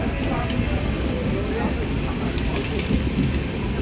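The Kochuveli SF Express, train 20932, rolls slowly through Adavali station without stopping, heard from inside a general coach as a steady, loud rumble and rattle that continues unbroken throughout.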